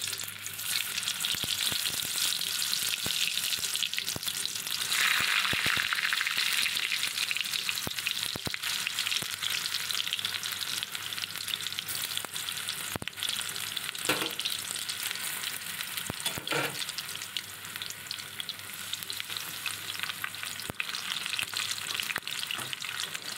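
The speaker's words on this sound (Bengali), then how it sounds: "এবার একটা একটা তেলের ওপরে দিয়ে দেব।" Teasel gourd stuffed with shrimp frying in oil, a loud, continuous sizzle and crackle close up that briefly swells louder as pieces go in, with occasional clinks from stirring and no talk.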